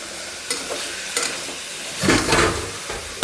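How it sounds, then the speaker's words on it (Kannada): Onions frying in oil in a pan, a steady close hiss of sizzling with a few louder bursts as they are stirred, fairly loud and without talk. "ಇದು ಸ್ವಲ್ಪ ಇನ್ನೂ ಫ್ರೈ ಆಗಬೇಕು ನೋಡಿ ಈ ಥರ ಸ್ವಲ್ಪ ಕಲರ್ ಬಿಟ್ಕೊಂಡೈತೆ"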